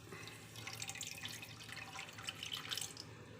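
Water pours steadily into a pan already holding sugar, a continuous splashing stream lasting a few seconds in a home kitchen while a stove burner is on.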